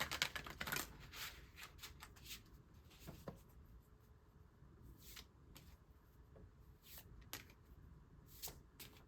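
Oracle cards are shuffled by hand in soft, close, quiet bursts of riffling and sliding, with intermittent crisp flicks and pauses between them, alone without speech.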